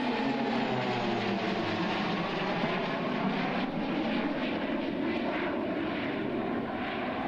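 Pilatus PC-7 aircraft of a Swiss display team fly overhead, a steady, dense propeller-engine drone that holds at a constant loudness throughout with no talking.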